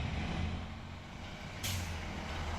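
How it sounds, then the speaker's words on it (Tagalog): An arriving school bus rumbles low and steady, then its air brakes let out one sharp, loud hiss of released air partway through. "Yan na yung bus niya."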